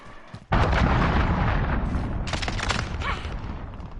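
An enemy cruise missile strike in a Call of Duty beta match bursts in abruptly as a loud, close explosive roar, then stays as a sustained rumbling, crackling blast that slowly thins out without fading away.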